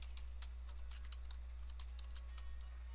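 Quiet, rapid keystrokes tap on a computer keyboard in an irregular stream while text is entered, faint and close over a constant low electrical hum, with no voices.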